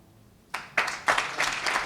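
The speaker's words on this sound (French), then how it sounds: "Nos applaudissements" Audience applause breaks out after a short silence at a closing session of a FIFA referee training course in Guinea, starting with a few claps and building into steady clapping.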